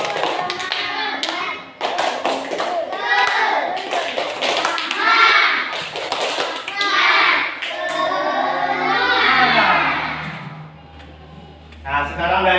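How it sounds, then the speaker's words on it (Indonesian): Schoolchildren in a classroom perform the tepuk semangat clapping routine, a fast rhythmic patter of many hands clapping together in patterned bursts mixed with children's chanting voices, fairly loud and close. "Sekarang tepuk semangat dulu"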